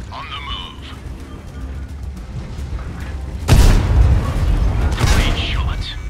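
Tank cannon shots and shell hits in World of Tanks Steel Hunter mode with the Huragan vehicle: a heavy boom lands mid-clip and another follows shortly after, amid mechanical clatter and game voice callouts.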